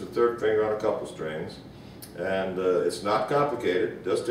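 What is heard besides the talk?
None of the usual background noises is heard.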